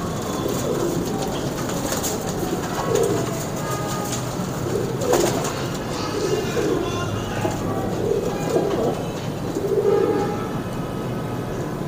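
Soft, repeated cooing from teddy pigeons murmurs over a steady background hum, with a few faint rustles and wing flutters mixed in.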